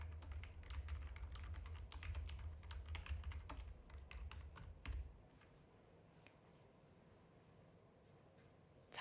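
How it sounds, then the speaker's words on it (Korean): Typing on a computer keyboard while filling in accounting software, with rapid, irregular clicking keystrokes that are quiet and close, a dense burst in the first half and then sparser taps, alone with no speech. "자, 그 다음에 주소는 저희가 타이핑 하시면 돼요"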